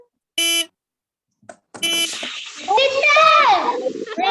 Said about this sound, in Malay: itu bunyi horn